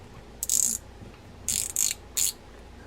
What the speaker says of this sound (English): just use the star adjuster as your wrench to remove that nut